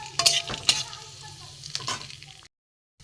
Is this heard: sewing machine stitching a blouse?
no